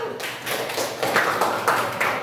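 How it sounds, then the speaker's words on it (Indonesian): A classroom group claps for everyone, a short round of many hands with distinct claps close by, irregular and lively, without talk. "tepuk tangan dulu untuk kita semua"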